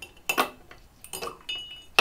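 Several ice cubes dropped one by one into a glass of water to chill a drink, giving a few sharp, close glassy clinks and knocks spaced over two seconds.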